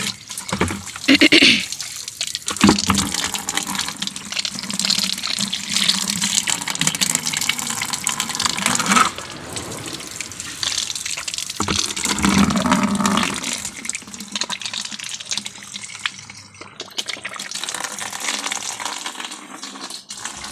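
Water runs from a pipe tap at a home, splashing and gushing unevenly with drips and surges, close by, with the flow changing strength over about twenty seconds.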